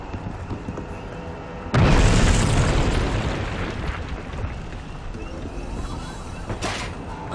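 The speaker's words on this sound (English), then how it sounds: "I think they're setting up some kind of bomb." Close, powerful bomb blast in the game We Happy Few, starting with a sudden burst and a long rumbling, crackling decay over steady background game sound.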